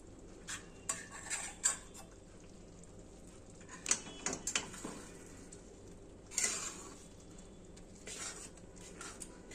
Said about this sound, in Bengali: এবার আমি মাংসের গ্রেভিটা দিয়ে দিচ্ছি তরকার মধ্যে।